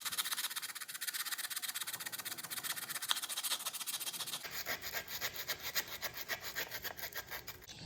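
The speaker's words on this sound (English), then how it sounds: "I'll go through and just kind of clean these up with some sandpaper and make them flow a little bit better." Sandpaper is rubbed by hand over Yamaha Waverunner III 650 engine top-end parts, giving quiet rhythmic scraping strokes that turn quicker and lighter partway through.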